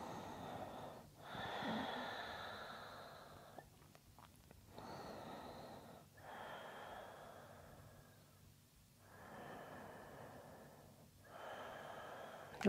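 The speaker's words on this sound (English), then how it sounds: "Deep ujjayi breath. So you're feeling a breath like the ocean waves on the shore." Slow, deep ujjayi yoga breaths drawn in and out through the nose with a soft oceanic hiss in the throat, several long even cycles close to the microphone in a quiet room.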